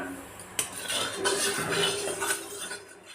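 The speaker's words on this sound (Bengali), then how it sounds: "তো চলো তেলটা নাড়ো মা।" Metal utensil stirring oil in a wok (kadai) while cooking mushrooms, with a sharp scrape at the start followed by soft continuous scraping and light clinks, fairly quiet.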